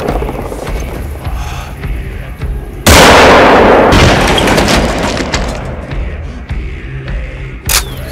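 Rifle shots in theHunter: Call of the Wild: one loud, sharp crack with a long rolling echo, followed a few seconds later by a second fainter shot, with quiet ambience between.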